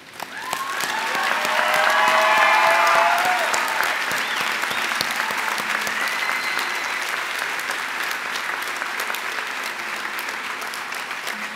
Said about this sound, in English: You deserve 2 rounds of applause there